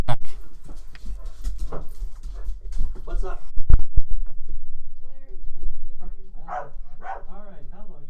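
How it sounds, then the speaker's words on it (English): Pet dogs, one named Rocket, pant, whimper and bark in short bursts close by inside a home, with someone speaking briefly between the noises. "There is all sorts of doggy disturbance."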